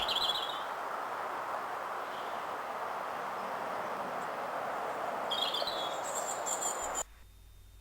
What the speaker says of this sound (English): we can just relax a bit and listen to the sound of the birds.